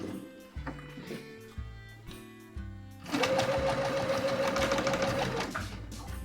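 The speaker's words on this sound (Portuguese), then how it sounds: "Vamos fazer a costura aqui no extremo." A sewing machine stitching fabric for a kitchen cap, several short stop-start bursts of motor whir, then one long steady run of rapid mechanical stitching, close and clear with no talk.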